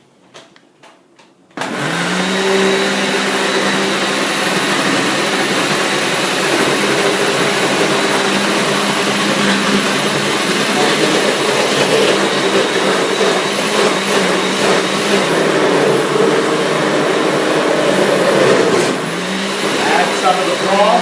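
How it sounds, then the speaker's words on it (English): A countertop blender switches on with a sudden whir and runs steadily for about twenty seconds, loud and close, pureeing a portion of vegetable stew, with a few soft knocks beforehand. "So I'll take out a little bit, put it in the blender,"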